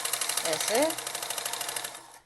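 A sewing machine stitches a seam beside buckram on a kurti sleeve, running as a steady, fairly loud mechanical whir for about two seconds before it stops, with a brief voice sounding near the start.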